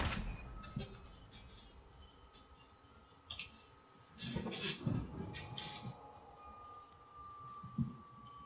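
Train from the game Red Dead Redemption rolling along, a steady rumbling clatter with metallic clinks and a faint whistle-like tone, swelling louder in the middle with no talk over it.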